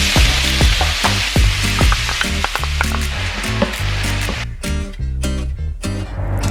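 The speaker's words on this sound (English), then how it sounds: "in the same pan, you have to saute some onion and garlic" Onion and garlic sautéing in the same pan used to sear beef, a loud close sizzle broken by repeated scraping and stirring clatter from a utensil.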